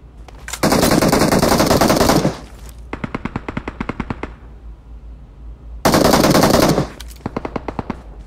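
Machine gun fire rings out in a video game, two long loud sustained bursts alternating with rapid, distinct shot sequences, close and dominant throughout.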